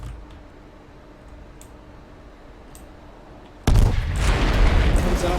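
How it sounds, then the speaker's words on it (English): Video game gunfire erupts suddenly after a few seconds of quiet hum and faint ticks, a loud dense burst of rapid shots that carries on to the end. "Dumpster Aim joining the fight, firing some shots into Wonderboy."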